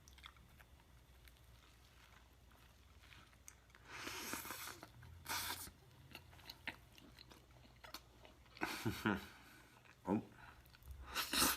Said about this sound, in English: I'm going to take another bite and give you a close-up of this delicious cross-section.